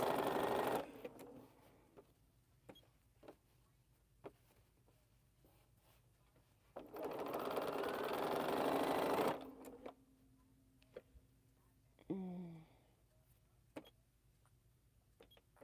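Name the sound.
sewing machine running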